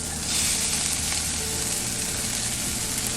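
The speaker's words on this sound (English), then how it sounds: "Let's go and stir in our sweet corn." Sweet corn stirred into a pan of sizzling green onion, garlic and jalapeno, steady loud frying hiss with soft scraping of the stir running throughout, no talking.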